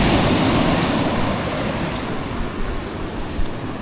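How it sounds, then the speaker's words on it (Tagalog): Rough ocean surf surges and churns continuously along a shore where a small boat is being launched, a loud, steady wash of breaking waves with no voices. "Grabe ang alon."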